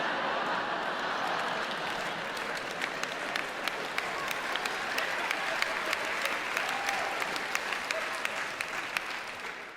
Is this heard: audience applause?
yes